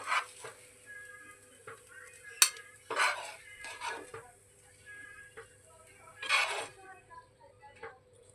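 Freshly cooked uttapam lifted off a pan onto a plate, with soft scraping and clinks of a utensil against metal, a few sharper taps standing out, fairly quiet and close with no talk.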